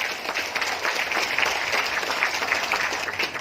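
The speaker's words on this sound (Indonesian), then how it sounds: "Tepuk tangan untuk Indonesia." A large audience at the inauguration ceremony of the State Christian Institute in Kupang, Indonesia, applauds steadily, dense clapping continuing loud and unbroken for several seconds without speech.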